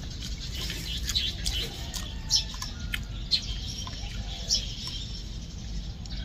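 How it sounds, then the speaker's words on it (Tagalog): Several birds chirp and tweet in short bright calls over a soft outdoor background hum, some calls close and clear, others faint and distant. "Nakakanta yung mga ibon."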